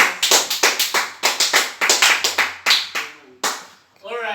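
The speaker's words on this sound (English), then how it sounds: "let's give him a round of applause" A class claps together in a steady rhythmic beat of sharp, even hand claps, then the clapping breaks off and a voice speaks briefly at the end.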